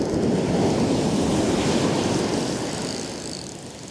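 Surf rolling and breaking onto an open fishing beach, a steady washing roar that swells early and slowly eases toward the end, with no voices.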